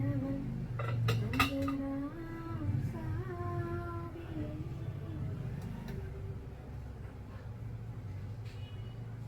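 Dishes and utensils being washed by hand, with scattered clinks and clatters of pots and cutlery over running background noise, fairly quiet, with some tonal sounds mixed in.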